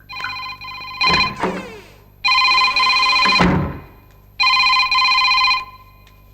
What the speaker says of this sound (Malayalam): നിക്ക്, ഞാൻ ഫോൺ അറ്റൻഡ് ചെയ്യാം.